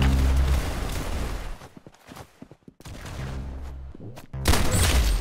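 Gunfire in a video game, with bursts of rapid shots and booms at the start and end and a quieter stretch of scattered pops and clicks in between.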